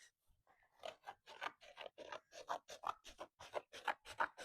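Scissors cut through fibrous green wallpaper in a steady series of sharp, close snips, about a dozen crisp strokes in a brisk rhythm, with no talking.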